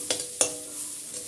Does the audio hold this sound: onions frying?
yes